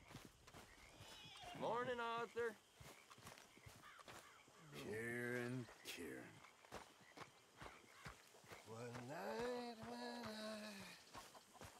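Horse hooves clop steadily at a riding pace in Red Dead Redemption 2, soft and mostly under someone talking in German throughout.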